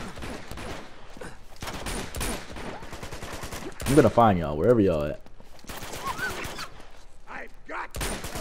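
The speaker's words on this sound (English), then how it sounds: "I hear gunshots." Gunfire in the video game Uncharted from the Nathan Drake Collection, bursts of shots scattered through the clip under a man's near, constant talking and shouting, with one louder raised outburst midway.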